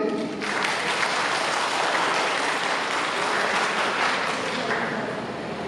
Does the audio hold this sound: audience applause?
yes